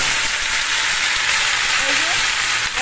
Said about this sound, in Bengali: আর আমি ভাজা করছি ডালের সাথে খাওয়ার জন্য